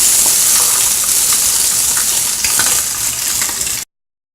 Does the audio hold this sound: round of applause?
no